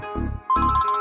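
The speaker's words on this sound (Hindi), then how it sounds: "अरे फोन की घंटी बजी है।" A telephone ringtone chirps in a quick repeating electronic pattern, loud and close, with a short pause before it starts up again, in a Pakistani telefilm scene with no talk over it.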